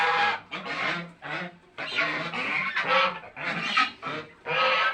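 Domestic geese honk loudly and close by in repeated bursts, harsh nasal calls coming in uneven clusters with brief pauses between them.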